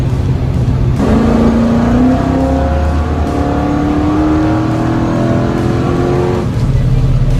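A 1966 Dodge Coronet with a HEMI engine running on aviation fuel, revving loudly and close, a deep rumbling roar that climbs steadily in pitch over several seconds before dropping back to a heavy idle.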